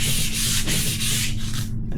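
Abrasive sanding scrubs rust and bluing off the metal of a Steyr M95 Mannlicher carbine, a loud, close, continuous rasping with rhythmic back-and-forth strokes and no talking.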